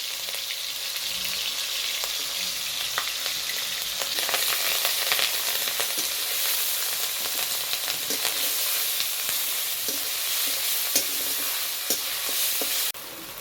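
Onion paste, garlic paste and garlic cloves fry in a pan, making a steady close sizzle and hiss with scattered crackles and occasional stirring scrapes throughout.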